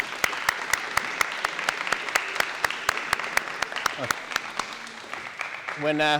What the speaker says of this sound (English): we have a round of applause for the athletes